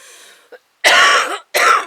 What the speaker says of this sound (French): Oui, je tousse.